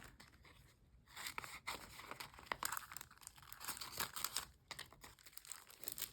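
Scissors snip and crinkle through a paper rub-on transfer sheet at a craft table, giving a close, steady run of crisp cuts and rustling paper with brief pauses.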